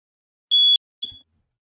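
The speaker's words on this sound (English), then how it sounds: "How do you with the fire alarm?" A high, steady electronic alarm tone sounds once for about a quarter second, then a second shorter beep trails off, both clear against near silence.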